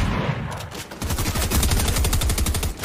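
Loud, rapid automatic gunfire from a weapon in Fortnite rattles close up in a dense, continuous burst, with a brief lull before it resumes.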